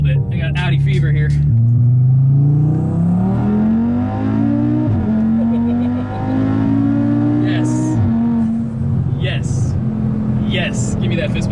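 A 600-horsepower Audi RS3 accelerating hard, its engine rising loudly through the revs with audible gear shifts, heard from inside the car, with people talking over it.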